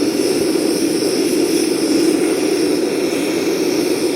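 FMS-116T gas camping stove burning at medium flame inside a wind screen, giving a steady, even roar that holds loud and close throughout with no talk.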